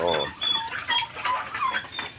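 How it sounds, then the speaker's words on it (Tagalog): Pet ducks and turkeys kept for laying eggs, several short clucking and squeaky calls overlapping in quick bursts, close and fairly loud, alone without talk. "Tapos ito yung mga alaga ko ngayon, mga itik, pabo"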